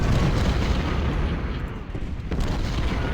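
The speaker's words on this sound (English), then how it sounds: "the artillery's having a chance to get some damage in" Artillery cannon fire during a Civil War battle at Cold Harbor in Ultimate General: Civil War, a continuous dense roar of distant booms blending into a heavy rumbling wash with no clear gaps.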